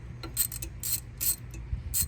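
A ratchet wrench cranking on the 8mm oil pump bolts of an S550 Mustang GT engine, a series of quick metallic clicks in short bursts, close and moderately loud against a low hum.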